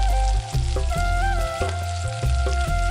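Five dried red chillies fry in hot oil for coconut rice, giving a loud, steady crackling sizzle broken by a few stirring scrapes, with no talking.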